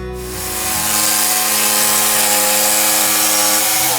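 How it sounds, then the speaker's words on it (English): A jigsaw cuts along a drawn line in plywood for a camper van floor, a loud close buzzing rasp that rises quickly and holds steady throughout. "We then used this funky piece of equipment, which is a jigsaw. We cut along the line that we drew"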